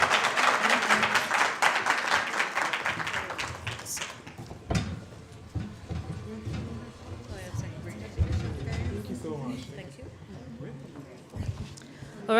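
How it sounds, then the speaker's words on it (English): Audience applause at a debate finals event as the winning team walks onto the stage, a burst of clapping that fades after a few seconds, followed by scattered thumps, shuffling and a speaker's voice. "Let's clap for them as they come on stage."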